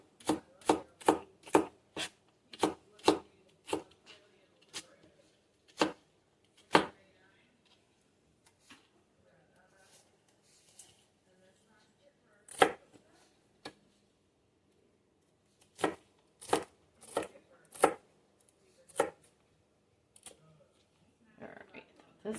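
Celery chopped with a knife on a cutting board at a home stove: sharp, distinct thuds come in quick bursts of several strokes, broken by pauses, with a soft background hum and no talking.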